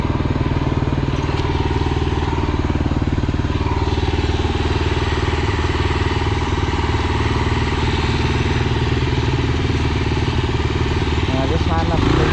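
Kawasaki KLR motorcycle crawling along in low gear, its single-cylinder engine chugging loud and close with a steady clattering pulse throughout, someone talking over it.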